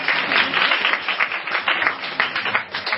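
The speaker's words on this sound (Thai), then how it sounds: "ขอเสียงปรบมือด้วยครับ" Audience applauding a Thai folk ramwong dance troupe from Tak province, dense steady clapping from many hands throughout, loud and close with no talk over it.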